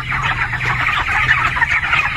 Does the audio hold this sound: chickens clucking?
yes